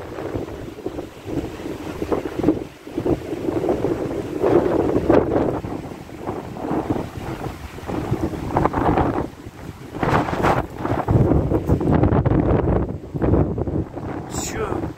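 Fierce mistral wind at around 110 km/h roars and buffets the microphone in heavy gusts in Saint-Rémy-de-Provence, with a rumbling, blustery storm sound throughout and occasional voices underneath.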